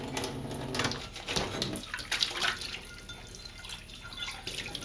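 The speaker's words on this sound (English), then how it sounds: "I just need to rinse these parts and carefully lift them out of the sink" Plastic model kit parts are rinsed in a sink, giving running and splashing water with soft drips and clatter as pieces are lifted out, close by and steady throughout.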